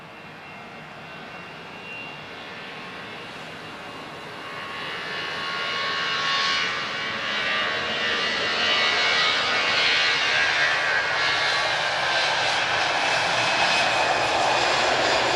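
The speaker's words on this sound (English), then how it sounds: "We're going to get an A330 arrival." Airbus A330neo arriving at Lisbon Airport, its jet engines swelling from a distant hum to a loud, steady roar as it passes close overhead, with no voices.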